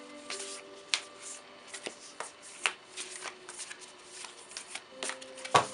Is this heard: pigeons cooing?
no